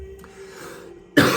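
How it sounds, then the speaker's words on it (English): A single short, sharp cough bursts out at the very end after a quiet moment of room tone. "I've had a little cough for the last week."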